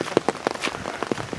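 Rain falls on a warm, humid suburban afternoon, with individual drops tapping sharply and irregularly close to a wet camera lens over a soft background patter.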